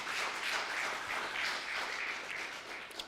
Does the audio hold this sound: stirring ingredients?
no